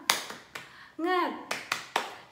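A primary school class does a rhythmic clapping cheer, a few crisp hand claps spaced in a pattern around a short sung or shouted voice in the middle, fairly quiet and close.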